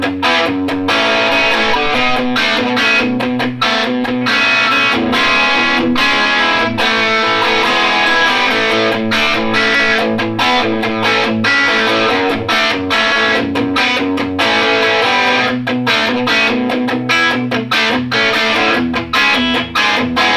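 Electric guitar through a Vivie Callion high-end overdrive pedal, distorted and loud, chugging in a rock riff of rapid, rhythmic palm-muted chords that continues unbroken throughout.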